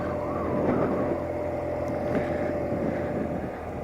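A 1978 BMW R 80/7 motorcycle with a freshly rebuilt carburetor, its engine running at a steady idle with a low, even drone close by, with no voices.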